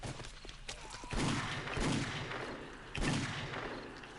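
Gunshots in the zombie survival game 7 Days to Die on PS4: a couple of loud, booming shots about two seconds apart, each with a heavy thump and a ringing tail, over low game ambience.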